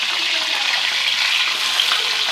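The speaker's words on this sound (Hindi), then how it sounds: "और चिकन को फ्राई करते हैं" Pieces of chicken fry in hot ghee with a continuous dense sizzle and crackle, steady and close throughout, with no voices.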